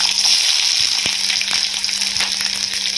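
Chopped onions dropped into hot oil sizzle loudly and steadily at close range, a continuous bright hiss of frying with no talking.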